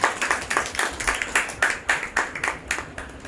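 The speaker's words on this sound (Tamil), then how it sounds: "கைத்தட்டி ஆண்டவர் மகிமைப்படுத்துகிறாங்க" A church congregation claps in time during a Palm Sunday sermon, a steady rhythmic beat of many hands, moderately loud and close, with no talking over it.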